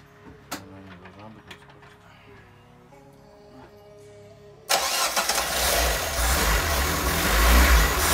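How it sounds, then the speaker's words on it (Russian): A car engine finally starts after sitting unused for two years: a few sharp clatters and faint tones, then the engine catches abruptly and settles into a loud, rough running roar with rising revs. "наконец-то двигатель заводится спустя 2 года"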